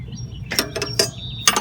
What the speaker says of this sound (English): Idler pulley is tightened down now.